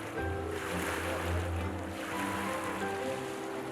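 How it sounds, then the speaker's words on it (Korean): Gentle sea waves wash steadily against the shore at a seaside fishing-ritual festival on Pyeongtaek Lake, with a continuous soft surf and low wind rumble throughout and no talking. "잔잔한 파도가 반깁니다"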